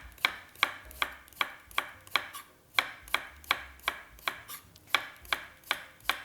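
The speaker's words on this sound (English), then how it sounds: "I've sliced all my cucumbers" A knife slices cucumbers thinly on a diagonal against a cutting board, steady evenly spaced crisp chops, about two per second, close and clear with no talking.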